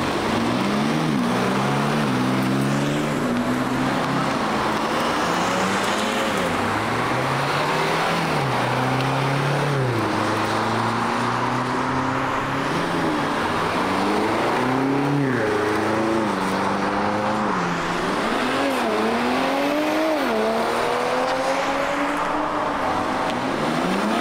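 BMW M cars lapping the Goodwood Motor Circuit, loud engines rising and falling through gear changes and revs, with several cars overlapping continuously and no talk.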